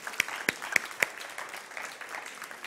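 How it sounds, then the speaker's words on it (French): A few sparse, separate claps from an audience at a demonstration of the ASIMO robot, four sharp hits in the first second and then only a faint murmur and light scattered clapping, quiet and distant. "Merci Asimo, applaudissons-le."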